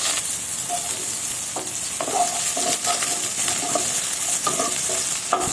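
Carrots go into hot oil with cumin and sizzle loudly, while a spatula stirs them with repeated scraping clatters against the pan and bursts of crackling frying.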